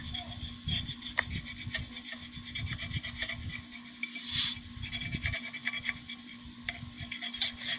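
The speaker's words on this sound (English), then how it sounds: "take the corner of your scraper tool and just kind of go around everything so that everything's nice and stuck on there." A scraper tool rubs and burnishes vinyl letters onto a tumbler up close. Soft, scratchy strokes repeat in an irregular rhythm.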